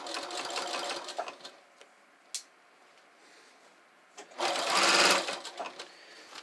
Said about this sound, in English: I'm just going to sew on my original seam allowance on the back